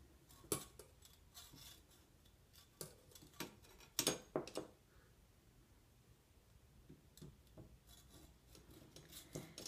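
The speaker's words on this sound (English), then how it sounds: "Do you want to try and grate the ginger in?" Fresh ginger rasped over a sharp kitchen grater in a home kitchen while making rhubarb chutney, heard as quiet, irregular scraping strokes in short bursts with pauses between, faint and close.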